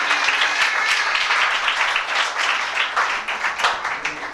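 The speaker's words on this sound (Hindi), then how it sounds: "मुकद्दसीन होने के लिए भरपूर तालियां बजाएं।" A church congregation applauds, a loud dense burst of many hands clapping that swells and continues for several seconds without speech.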